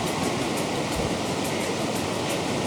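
Water flowing across a high mountain road near Baralacha Pass, a dense, constant roar of rushing water filling the scene with no talk.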